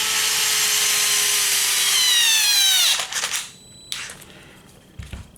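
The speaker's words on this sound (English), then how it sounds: "It even stalled out the drill" A power drill drives a small screw into the servo mount of a Traxxas Maxx V2 RC truck, its loud whine dropping in pitch as the screw tightens until the motor stalls, followed by a few faint clicks.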